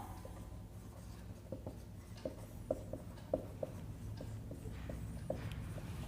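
Pen writing curves on paper, a series of faint scratchy strokes and taps in an irregular rhythm, close and quiet, with no voice.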